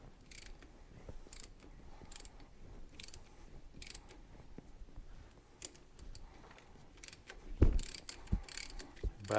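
A ratchet handle turns a thread-cutting tap into the steel frame of a Suzuki TS250 motorcycle, producing quiet, irregular clicking and metallic ticks over a low shop background. A few louder knocks come near the end.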